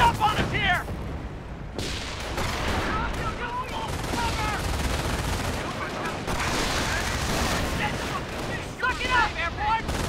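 Gunfire and artillery in the World War II game Company of Heroes, a dense ongoing battle of rifle and machine-gun bursts with booming blasts, and voices shout over the noise.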